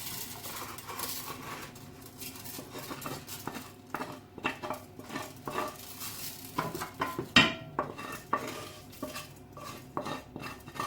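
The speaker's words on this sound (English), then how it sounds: "So I'm going to just tip everything into this casserole dish." Seasoned chicken thighs tipped into a casserole dish, with continuous clattering, scraping and stirring of utensils against cookware, close and moderately loud, with a soft sizzling bed beneath and no talk.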